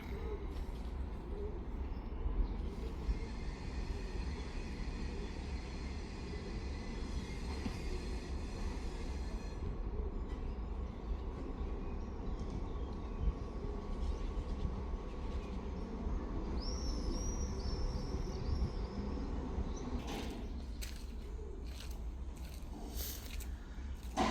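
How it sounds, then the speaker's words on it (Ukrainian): Rumbling train and rail wagons on a car-carrying service, a railcar pushing the train, with a steady low roar throughout, faint metallic squeals in the middle and clattering knocks near the end. "Ось вагон штовхає потяг"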